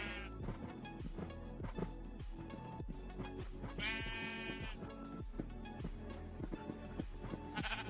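Sheep bleating in the Minecraft Vault Hunters modpack, a bleat or two rising over steady game music and background sound.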